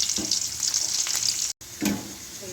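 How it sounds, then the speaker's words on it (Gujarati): Onions frying in hot oil as the base of an okra curry with gram flour and yogurt, a bright, steady sizzle with a few stirring scrapes and a brief dropout midway. "તેલ ગરમ થઈ જાય એટલે સૌ પ્રથમ આપણે ડુંગળી નાખવાની છે"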